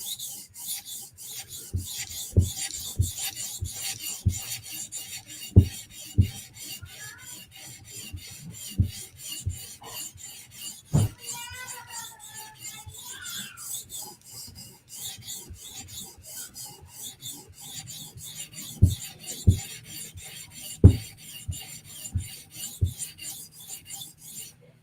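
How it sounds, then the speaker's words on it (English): A knife edge is scrubbed back and forth on a sharpening stone, giving repeated dry rasping strokes in an uneven rhythm, with occasional sharp knocks, close up and with no voices. "We're just kind of scrubbing the edge, lining everything up."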